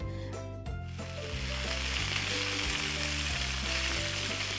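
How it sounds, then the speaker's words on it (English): Beef fries in hot oil in a skillet with a loud, dense, continuous sizzle and crackle that holds steady from start to finish, while background music plays underneath. "So we are gonna cook our beef."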